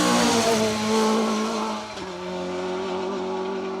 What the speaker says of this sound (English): Mick Quinn, Mike Percival through in their Class C Clio.